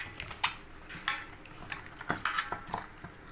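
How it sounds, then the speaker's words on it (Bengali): Marinated chicken is mixed with a spoonful of flour in a bowl for restaurant-style chilli chicken, giving soft irregular clinks, scrapes and wet stirring sounds close up, with no speech. "এ ভালো করে এবার মিশিয়ে নেব।"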